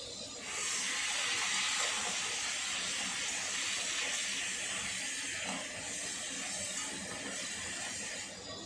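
Crab legs frying in hot oil with salt and turmeric give a steady, loud, bright sizzle that hisses continuously throughout.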